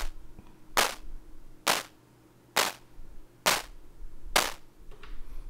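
Synthesized clap patch on a Moog DFAM drum machine: five sharp, bright, noisy claps spaced about a second apart over a quiet hum, each a crisp burst with a short tail.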